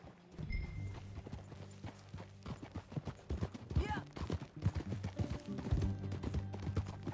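Hoofbeats of a horse being ridden in the video game Red Dead Redemption 2 clop along in a loose, uneven rhythm, with a brief spoken word and game dialogue mixed in over them.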